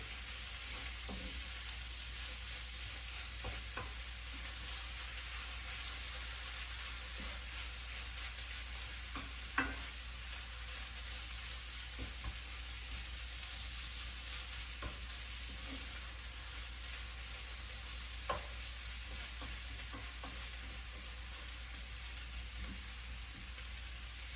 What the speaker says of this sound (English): we want to cook it a little bit and kind of dry it out a little bit as we're cooking it